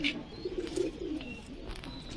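High-flyer pigeons kept at a house in Krishnanagar give soft, close cooing in a few rounded, rhythmic phrases, with faint chirps in the background.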